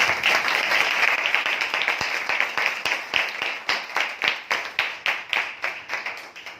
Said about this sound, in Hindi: हम आत्मिक उत्साह की सभा में जोरदार तालियों से स्वागत करें